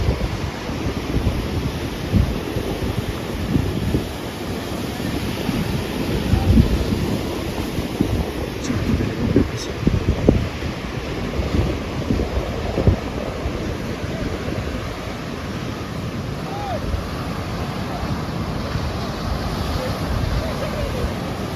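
Ocean surf and gusting wind at Nusa Dua beach in Bali roar steadily, with waves breaking in continuous broadband rushes and wind buffeting the microphone, loud and close, with no speech.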